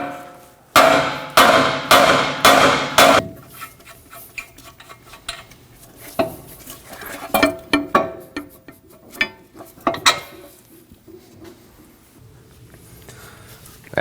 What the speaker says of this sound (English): Now we're going to strike the knuckle right on the end here by the tie rod using a hammer